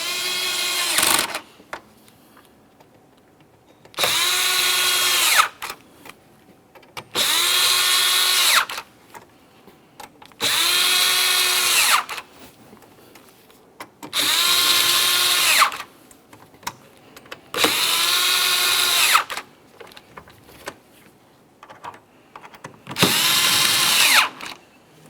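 A power drill drives in the upper mounting hardware on a 2017-2024 GMC Acadia front bumper cover, whirring in six or seven loud, even bursts of roughly two seconds each with short quiet pauses between.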